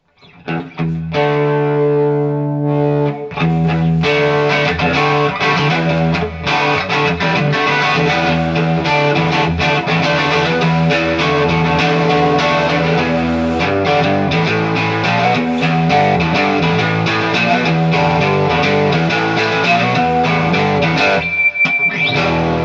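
Distorted electric guitar played through a Quilter 101 Mini Head amp with gain, a continuous loud, close passage of driven chords and riffs with a bit of reverb and feedback at the end.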